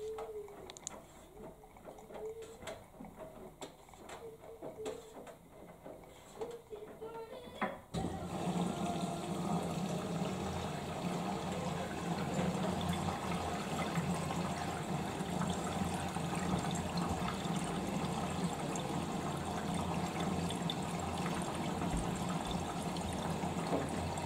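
Bosch VarioPerfect washing machine (WAT28371GB, EcoSilence Drive) drawing in floral-scented fabric softener with water, on a darks Easy Care 30 cycle: a steady rushing inflow of water that starts abruptly after a quieter hum and continues loudly to the end.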